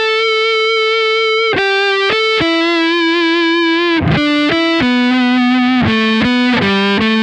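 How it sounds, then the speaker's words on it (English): Distorted electric guitar on a Les Paul's neck pickup, run through a Kemper profile of a Marshall JCM 800 with high gain, plays a sustained, singing lead line of held notes and slides, loud and alone. "That really crying tone on the neck pickup on the Les Paul."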